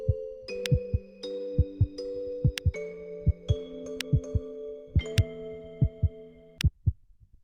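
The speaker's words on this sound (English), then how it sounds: "I made it so that the heartbeat would still be heard, so like you can feel your own heartbeat as along with the heartbeat of the game." Heartbeat sound effect in the bad ending of a student-made video game: regular low thumps repeat steadily beneath sustained musical tones and occasional bright chimes, clear and close.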